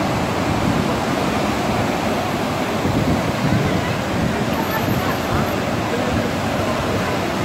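Broadband roar of ocean waves from a tsunami on the Moroccan coast, a steady loud wash of surf mixed with wind buffeting the microphone, continuous throughout with no clear break between crashes.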